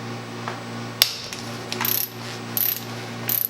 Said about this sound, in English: Now we break this internal screw nut loose here.